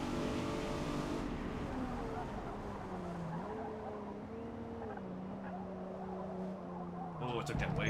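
A Nissan G35 time attack build in Forza Motorsport revs hard through a tunnel, a droning, wavering engine note with gear shifts and a brief skid at the end, fairly quiet and steady throughout.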